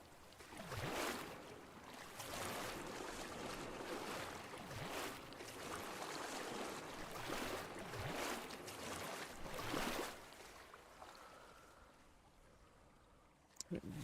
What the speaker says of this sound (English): Oh god, get me out of the water.